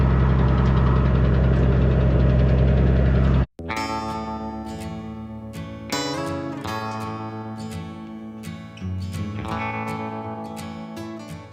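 A farm skid steer's engine runs at a steady idle, loud and close, with a low continuous drone and a sharp break partway through before it settles back into the rumble.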